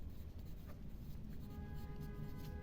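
Pen writing numbers by hand on paper during a class 7 maths lesson, a faint, steady scratching close by, with a low background hum and no talk.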